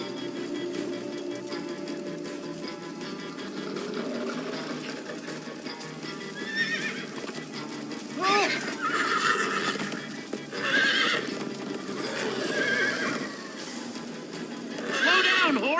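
A horse in the Minecraft Story Mode video game neighs several times in loud, high whinnies over a steady rumble of clip-clopping hooves and rolling movement, with a brief voice in the mix.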